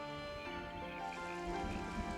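Steady rain weather effect in the video game Foundation, a continuous hiss of falling drops with soft patter over a layered ambient game soundscape, moderately loud and without voices.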